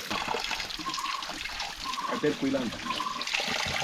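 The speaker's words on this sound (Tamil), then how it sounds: "அதுலேருந்து எப்படியே அருவி மாதிரி கொட்டிட்டு இருக்கு பார்த்தீங்களா" Water pouring from a rock spout at Melmudi Ranganathar Temple, Coimbatore, splashes and trickles steadily throughout, with people talking over it.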